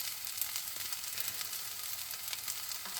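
Pineapple fried rice crackles and sizzles steadily in a hot pan as it is stir-fried, a close, continuous hiss of fine pops with no voices over it.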